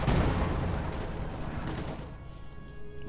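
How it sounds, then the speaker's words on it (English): Battle sounds from Company of Heroes 2 include a Granatenwerfer mortar firing, with dense booming blasts and gunfire rumbling continuously before fading into a lighter, quieter patch. "We got the Granatenwerfer shooting away."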